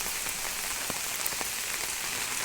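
Torrential rain pours over a farm in an even, unbroken wash of hiss, with a few faint individual drop taps standing out and nobody speaking.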